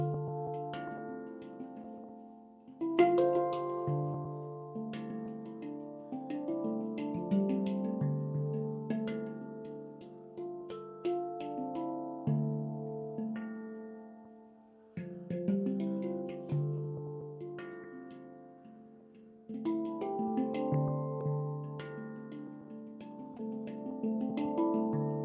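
A handpan rings out indoors in slow, flowing phrases, each struck note sustaining and overlapping into warm, bell-like chords, with a few pauses where the tones decay before playing resumes, close and moderately soft.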